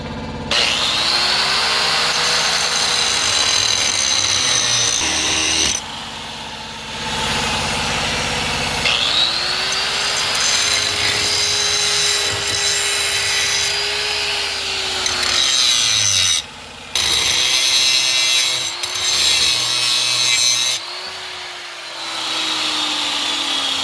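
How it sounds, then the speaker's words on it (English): An angle grinder cuts into a Ford Ranger tailgate handle in a loud, close, sustained whine, broken into several long passes with brief pauses between them. "we're going to get the angle grinder and we're going to get it a lot closer"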